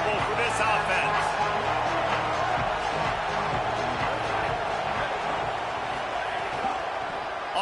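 Loud, steady roar of a stadium crowd in an EA football video game, filling the whole stretch continuously while a commentator talks over it.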